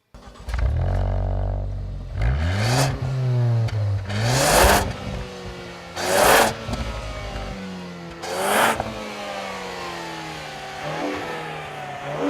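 A 2013 Ford Focus ST accelerating hard from a standstill toward 60 mph, its turbocharged engine revving up loudly through several gears with rising pitch sweeps and brief drops at each shift, heard close from inside.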